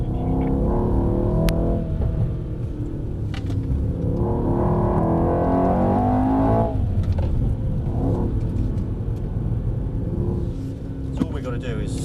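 A Mercedes car driving through a track section, its engine note rising and falling steadily throughout while a voice talks over it almost continuously.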